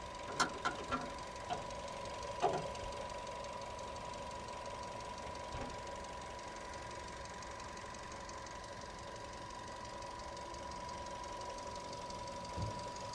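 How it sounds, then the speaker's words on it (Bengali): A 2014 Nissan Sunny idles steadily at a low, faint level with an even hum and a few small ticks and clicks near the start, no voices over it. "এই যে দেখেন ইঞ্জিনটা দেখেন, এই যে ইঞ্জিনের সাউন্ড মাশাআল্লাহ স্মুথ সাউন্ড"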